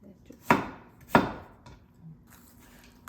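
A knife, likely a Heritor Chinese cleaver, chops potatoes on a cutting board with two loud, sharp, close strikes about half a second apart, then only quiet kitchen background.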